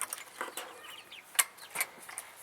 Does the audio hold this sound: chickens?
yes